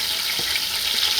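Garlic and natural seasoning sautéing in a hot pan, giving off a steady, fairly close hiss of sizzling throughout the brief moment, with no voices.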